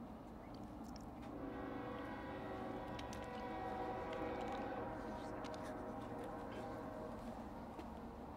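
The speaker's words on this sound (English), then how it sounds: "It's a freight train." Two long freight trains roll past at the same time in opposite directions, a loud steady rumble of wheels and cars with sustained horn-like tones, continuous and close throughout.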